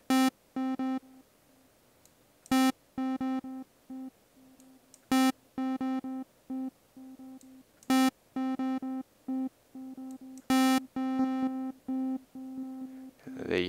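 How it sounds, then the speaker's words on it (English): A Massive software synthesizer plays short pulsing tones through a delay effect, each bright stab followed by fainter repeating echoes in an uneven rhythm, with a noisy swell at the end. "that's going to control how long it echoes for"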